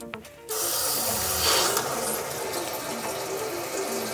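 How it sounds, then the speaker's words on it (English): Household water supply turned back on at a toilet during a Mordeer C600 electric bidet installation, a sudden hissing rush of flowing water after a brief quiet start, steady and close with no talking. "So let's turn the water back on."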